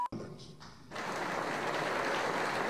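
An assembly breaks into applause for a speech cheered by a leader, a faint sound at first that swells into steady, dense clapping from a large crowd.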